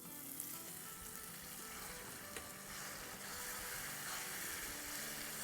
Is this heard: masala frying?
yes